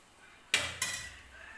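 A lid set down on a pan of raw mango cooking for kairicha bhat, giving two quick metallic clanks close together, the second ringing briefly before fading, with no talking.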